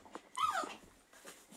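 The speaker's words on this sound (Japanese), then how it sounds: "ワンちゃんたちがいます。" Two dogs indoors at a family home whimper and whine, with a high, wavering cry in the middle that stands out over faint background sounds, fairly quiet overall.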